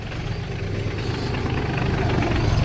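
A steady, low tractor engine idling with a rough, rumbling vibration that holds constant and close throughout, with no voices.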